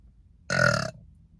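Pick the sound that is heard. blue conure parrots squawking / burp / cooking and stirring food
burp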